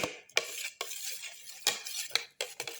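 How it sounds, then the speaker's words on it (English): A utensil scrapes and clinks in a bowl while ginger, garlic and tomato are mixed and crushed together, a series of sharp metallic strikes with short pauses, close and clear with no talking. "Thoroughly mix and crush all the ingredients together."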